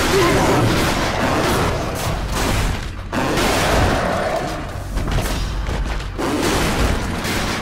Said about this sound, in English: ランチャーぶっ放して。